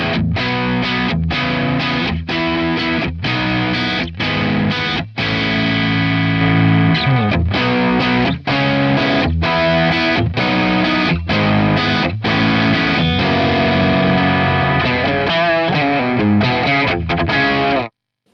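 Electric guitar through a Boss DS-1 Waza distortion pedal, loud saturated chugging riffs and sustained distorted chords played continuously for about eighteen seconds, with no talking.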